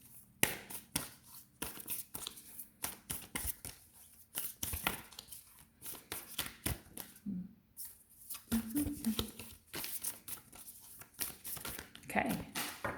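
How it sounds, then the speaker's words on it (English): A deck of oracle cards being shuffled by hand, giving repeated quick riffling and crinkly bursts in an irregular rhythm over several seconds, close and fairly soft, with brief pauses between. "so I'll keep shuffling"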